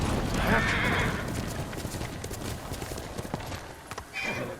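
Horse hooves clip-clopping in the video game Ghost of Tsushima, a steady trot of hoofbeats with a whinny near the start and another brief neigh toward the end, fairly close and loud.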